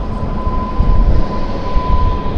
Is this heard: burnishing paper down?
no